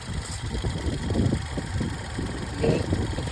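A 2014 Ford Fiesta ST's engine idles smoothly, a low steady rumble with a gentle pulsing throb that rises slightly in places, close and even with no one speaking.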